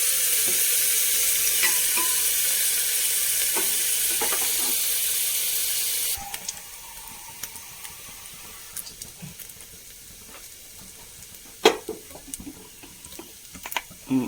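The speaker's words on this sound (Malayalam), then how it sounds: "ഈ ചെമ്മീനൊന്ന് ഒന്ന് ഫസ്റ്റ് ഒന്ന് വറുത്തെടുക്കാം ഇതിൻ്റെ പച്ചമണം പോണ വരെ ഒന്ന് വറുത്തെടുത്താൽ" Prawns fry in a pan for a curry, a bright hiss of hot oil that drops abruptly partway through to a quieter crackle with occasional stirring clinks and scrapes.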